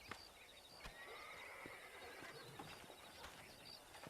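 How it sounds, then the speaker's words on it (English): Horse neighing in the video game Red Dead Redemption, a faint whinny set against quiet outdoor ambience with scattered light hoof and bird sounds. "Let's see if we can't wrangle some horses."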